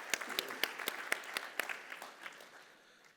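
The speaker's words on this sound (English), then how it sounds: "A big round of applause for both organizations," A small audience at a dialogue event gives a round of applause: scattered, uneven claps near the start that thin out and fade toward the end, with no voices over them.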